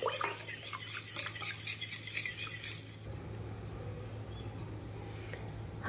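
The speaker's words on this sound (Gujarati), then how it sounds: "1 ટીસ્પૂન વેનીલા એસેન્સ લઈ લેવાનું છે। પ્રોપર એને મિક્સ કરી લઈશું આપણે।" A spoon stirs an eggless plum cake batter with vanilla essence in a bowl, steady scraping and swishing for about three seconds before fading to quiet room tone.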